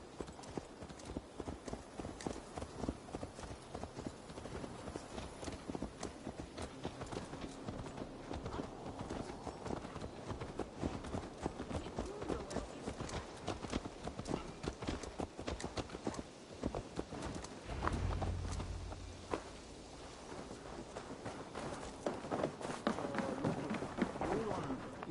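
Hooves of a horse trotting steadily in Assassin's Creed Valhalla, a continuous rhythmic clopping on the ground throughout, with characters talking over it and a low rumble partway through.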